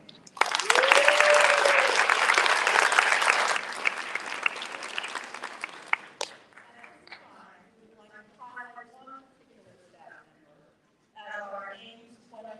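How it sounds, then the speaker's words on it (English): A crowd at a high school graduation ceremony applauds loudly for the staff for several seconds, then the clapping fades and a speaker talks alone. "let's give a round of applause for our current staff right now"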